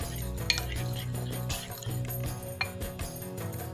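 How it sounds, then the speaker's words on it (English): Egg paratha batter is stirred in a bowl, with a utensil clinking and scraping against the sides in a busy, continuous rhythm over a dense background. "See that no lumps are formed, so keep stirring."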